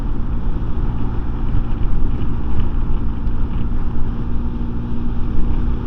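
A Voge SR16 125 scooter rides uphill on a sunny day, its engine drone mixed with heavy wind buffeting across the microphone, steady and close throughout.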